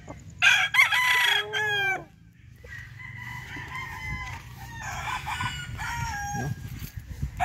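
A gamefowl broodstag rooster at a game farm crows loudly and close at the start, followed by clucking and other fowl calls in the background.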